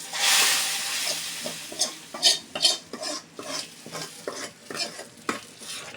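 An onion, garlic and cumin tempering poured into a taro-root dal with taki fish gives a loud hissing burst, followed by steady sizzling and repeated metallic clinks of a spoon stirring in the pot.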